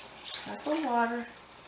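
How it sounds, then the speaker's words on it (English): About a cup of water is poured into a pot of homemade beef vegetable soup with macaroni, a brief close splashing gush with a ringing, resonant tone that fades quickly. "I'm going to put about a cup of water in with that right now."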